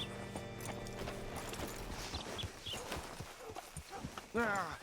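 Horse hooves clip-clopping at a walking pace alongside harness jingles in Red Dead Redemption 2, ending with a brief whinny; a voice speaks over it.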